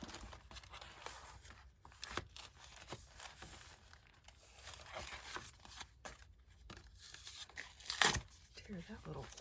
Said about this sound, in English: Tear that little flap off.